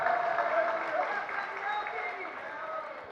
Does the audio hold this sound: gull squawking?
no